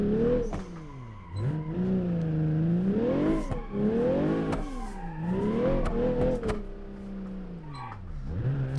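A car drifts on a track in BeamNG, its engine rising and falling in sweeping revs with tire noise and a few sharp knocks, loud and continuous throughout.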